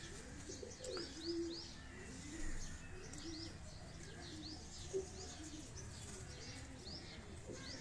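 Teddy-breed pigeons coo softly now and then against a faint background of chirping birds and low ambient noise.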